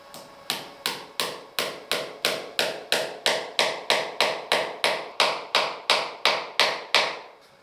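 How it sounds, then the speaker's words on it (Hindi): A screw being driven into a wall to mount a camera clamp: a steady run of about nineteen sharp, close tapping strikes, evenly spaced and each fading quickly, with no voices. "आपने देखा कि हमने एक स्क्रू माउंट किया है।"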